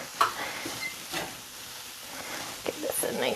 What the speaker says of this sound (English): Give this a nice stir